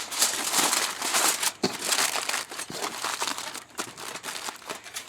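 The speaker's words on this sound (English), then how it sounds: "I'm going to wrap it real tight because it needs to be tight so the steam from the pork butt can finish cooking it on the inside of the foil." Aluminum foil crinkles and crackles loudly up close as it is wrapped tightly around a smoked pork butt, a dense continuous rustle with sharper crunches.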